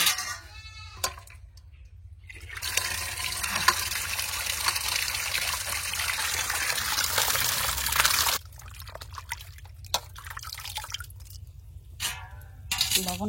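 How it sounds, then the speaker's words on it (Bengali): Koi fish rubbed with salt being washed in water in a kitchen, giving a long stretch of steady splashing and trickling close by, then a few sharp drips and brief splashes once the washing stops. "এবার ধুয়ে নেবো মাছগুলো।"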